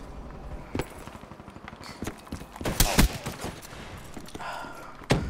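Gorgon weapon firing in Call of Duty Black Ops 3, heavy irregular gunshot bursts cracking through dense game noise, with louder volleys around the middle and a final sharp shot.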